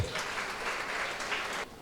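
Applause from an audience at a Diwali celebration in a hall in Srirangam, a dense, steady burst of clapping lasting under two seconds before tapering off.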